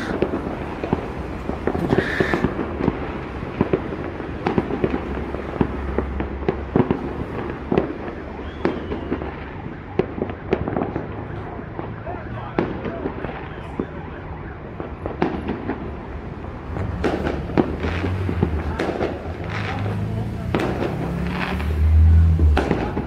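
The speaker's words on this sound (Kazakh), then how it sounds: "Не деген салюттар кетіп жатыр." Dense fireworks burst over a city just after midnight, with a rapid, overlapping barrage of cracks and booms at mixed distances and a steady rumbling wash behind them, continuing for the whole stretch without letup.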